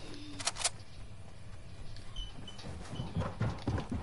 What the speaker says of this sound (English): I hear that his fucking footsteps, they're loud